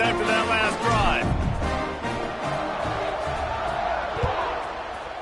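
Stadium crowd roaring steadily in an NCAA 25 college football video game after a touchdown drive, a broad continuous cheer with a commentator talking over it.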